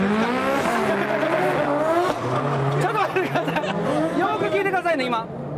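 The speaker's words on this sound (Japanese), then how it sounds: "今追走で手塚とツヨポンが走ってると言いました" Drift cars at the 2011 D1 Grand Prix run in tandem, their engines screaming and rising and falling in pitch as tires squeal, loud and continuous under excited commentary.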